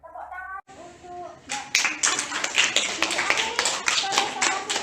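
A classroom of students bursts into clapping for a group presentation after a brief spoken moment, with many hands beating in quick, uneven rhythm close by.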